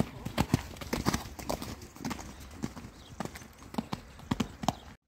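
Horse hooves thud in a rhythmic clip-clop during a show jumping lesson, close and distinct strides with a brief pause midway, faint background talk.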